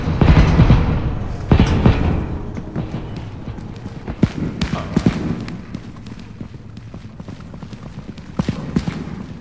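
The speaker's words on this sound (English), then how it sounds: "Oh, it's the footsteps. That noise." Heavy monster footsteps in the horror game Content Warning, thudding irregularly in clomping bursts under excited chatter and yelling from several players.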